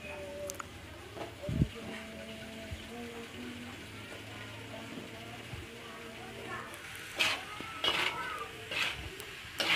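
Steamed bamboo shoots being stirred in a frying pan, with scraping and knocking of a utensil against the pan over a low sizzle, several louder clatters near the end and a voice speaking at times.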